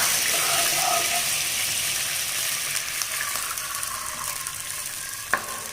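Water poured into a cup measure of sago while making jaggery sago halwa, a steady close splashing pour that fades over several seconds and ends with a sharp clink.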